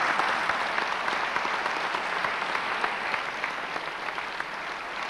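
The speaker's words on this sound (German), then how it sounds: "Applaus" Sustained audience applause at the close of a panel discussion in Berlin, a dense, steady clapping from a full hall that carries on evenly for several seconds with no speech over it.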